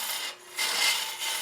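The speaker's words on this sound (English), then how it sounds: "now I got to get some of that waste wood out" A boring bar scrapes waste wood from inside a woodturning hollow form, a soft airy rasping cut in two passes with a short dip between, fairly quiet and without talk.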